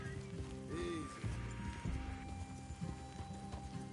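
Horses clip-clop in Red Dead Redemption 2, with a steady rhythm of hoof strikes on the ground, a short whinny and light outdoor ambience. The sound is faint and no one speaks.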